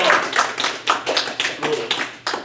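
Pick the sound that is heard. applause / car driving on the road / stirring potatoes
applause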